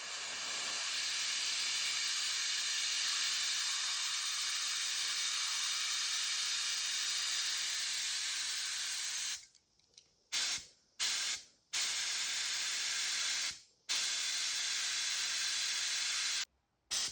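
Air-assisted airless paint spray gun, a Graco Ultra XT setup with compressor-fed air added, sprays in a loud, steady broadband hiss for about nine seconds, then breaks into several short bursts as the trigger is released and pulled again.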